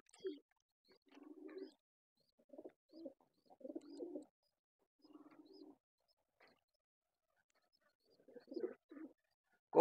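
Pigeons, including a white one nesting on eggs, cooing in soft low rounded phrases, repeated in short bursts with quiet gaps between, close by and otherwise alone.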